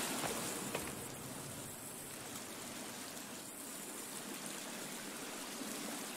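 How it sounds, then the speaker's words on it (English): Waterfall in the survival game The Forest, a loud, steady wash of rushing water filling the whole clip with no voices. "Oh, that is loud. A waterfall here."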